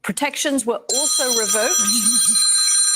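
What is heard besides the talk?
mobile phone ringing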